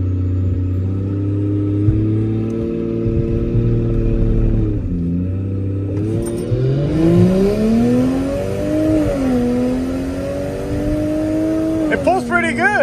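A turbocharged Lexus IS300 accelerates hard in a drag race, its engine note climbing steadily through the gears with brief dips at shifts, loud and close from inside the car, with people talking over it.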